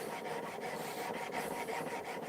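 A steel chisel rubbed back and forth on an oil stone, a steady rasping scrape in quick repeated strokes, close and fairly quiet, with no talking.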